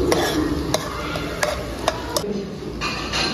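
Alamang shrimp paste gets stirred in a hot pan for a high school cook-off dish, with a spoon scraping and clinking against the metal in sharp, irregular taps over a soft sizzle.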